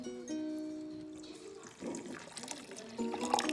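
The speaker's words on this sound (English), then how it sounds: "So I'm going to go ahead and add 2 more cups of water and milk" Water and milk pour into a mixing bowl for two-hour bun dough, a short splashing rush in the middle of the clip after steady tonal sounds, then a second softer burst near the end.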